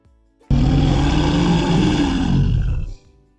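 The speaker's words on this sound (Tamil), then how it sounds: "சரியா சொன்னீங்க, இது நம்ம கரடி மாமாவோட சத்தம் தான்." A bear roars once, a loud, deep, sustained growl of about two and a half seconds that starts abruptly and cuts off, alone against near silence.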